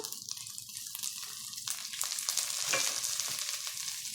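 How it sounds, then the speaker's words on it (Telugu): Onions, green chillies, curry leaves and mint fry in a pan for pulao, giving a soft continuous sizzle broken by light scraping stirs. "కొంచెం ఇవి కూడా అన్నీ బాగా ఫ్రై చేద్దాము కొంచెం పుదీన పచ్చి వాసన పోయేంత వరకు ఇట్లా"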